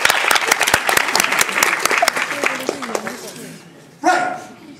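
Applause rises from a debate tournament audience at a grand final, dense and steady for about three seconds before thinning out, with voices talking under it and a brief loud burst near the end.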